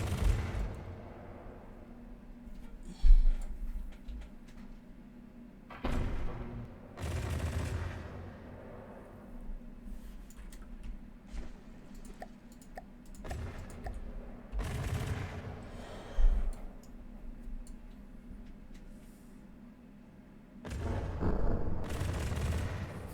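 Cannon fire from a fantasy battleship in From the Depths, slowed to about 100 rounds a minute by low ammo loader counts: several heavy booming shots spaced a few seconds apart over a continuous low rumble.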